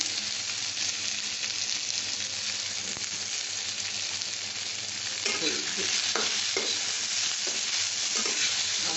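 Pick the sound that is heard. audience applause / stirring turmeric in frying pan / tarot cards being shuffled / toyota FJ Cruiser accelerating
stirring turmeric in frying pan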